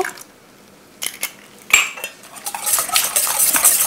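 A spoon clinks against a bowl while egg and butter are stirred together for a chocolate chip cookie mix, starting quiet, then sharp taps that build into continuous close scraping.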